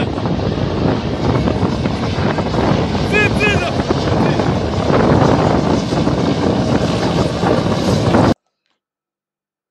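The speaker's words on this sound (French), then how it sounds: "l'hélicoptère que vous voyez, c'est un hélicoptère de la MINURSO." A UN MINURSO helicopter flies near Guerguerat, its rotor and engine drone steady and continuous, mixed with heavy wind buffeting the microphone until the sound cuts off abruptly.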